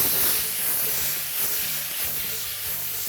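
Shrimp scampi sizzles in a hot pan, seasoned with salt and pepper, giving a loud continuous hiss and spitting crackle that stays steady throughout, with faint stirring knocks underneath.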